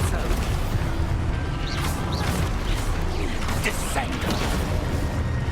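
An Expulso spell goes off in Hogwarts Legacy, a blasting crash with whooshing bursts layered over dense, continuous game noise and music, with a voice talking throughout.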